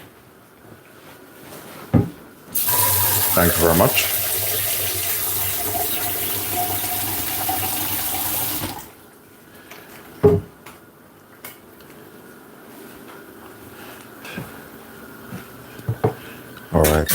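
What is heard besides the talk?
cold water running from a kitchen tap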